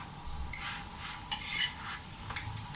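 Lachha paratha cooks in a pan while being moved round, giving a soft sizzle with a few brief scraping clinks near the start and middle, fairly quiet and without voices.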